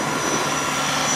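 A King Kutter XB three-point tiller on a subcompact tractor works through old sod, producing a loud, steady, close mechanical drone with an even engine roar and no talking.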